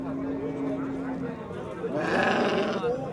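Sheep bleat at a busy livestock market in Chimyon, with one wavering bleat rising out of the crowd noise. People talk nearby throughout.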